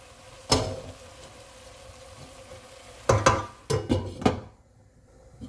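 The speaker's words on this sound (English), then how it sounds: "I'm going to add in those peas and corn, mix it through, and then let it cook for a little bit longer" Peas and corn stirred into a mixed vegetable subzi in a pan, with a soft background sizzle broken by several sharp scraping clatters of the spoon against the pan, mostly bunched toward the end.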